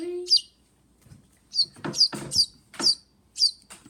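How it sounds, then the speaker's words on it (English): A pet bird gives a series of short, high, sharp chirps in irregular bursts, close and clear, while people speak quietly. "Little bird, little bird."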